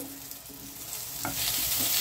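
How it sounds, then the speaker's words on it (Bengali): Eggplant slices fry in a small amount of oil in a pan, giving a steady sizzle with occasional stirring scrapes and no talking. "দেখো কত অল্প তেলে আমার বেগুনও ভাজা হয়ে গেল"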